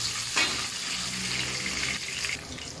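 Garlic and onion sautéing in hot oil for a ground pork dish, a close, steady broadband sizzle with a brief louder burst near the start.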